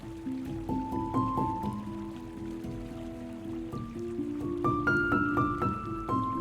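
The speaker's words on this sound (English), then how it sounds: "The sound of flowing water clears our minds, creating a sense of mental space and clarity." Water trickles and gurgles, with bubbly plinking drips and small splashes in an uneven rhythm. It is fairly close and gentle, with no voices.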